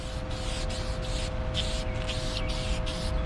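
CoverAll aerosol tire shine sprayed onto tires, a series of about seven hissing bursts of varying length with short pauses between, close and steady over a faint background hum.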